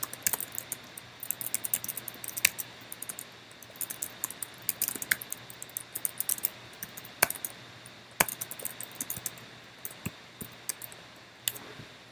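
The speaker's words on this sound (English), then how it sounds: "Students type in their answer here." A student types an answer on a computer keyboard, a steady run of light, uneven key clicks close by, with occasional louder taps in a quiet room.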